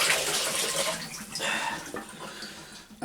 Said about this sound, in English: just get a chicken, and I always give it a quick wash